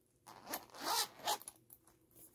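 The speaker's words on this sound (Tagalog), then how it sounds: "So, and the back zipper naman" A zipper is drawn along the back of a wallet-on-chain bag, two or three quick close rasping pulls followed by small soft handling rustles.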